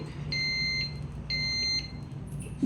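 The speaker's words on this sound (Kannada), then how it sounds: "ಬೀಪ್ ಸೌಂಡ್ ಬಂದು ರೈಸ್ ರೆಡಿ ಆಗಿರುತ್ತೆ" Two short, clear electronic beeps from an electric pressure cooker signalling cooked rice, evenly spaced, over quiet background noise.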